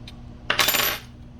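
A wrench tightens a nut onto a toggle switch mounted on a bracket, giving a short metallic clink and rattle that lasts under a second, close by, with no voices.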